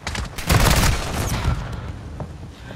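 Shotgun blasts in Call of Duty Modern Warfare 2 multiplayer, a dense cluster of loud close shots early on, then more scattered gunfire and game noise.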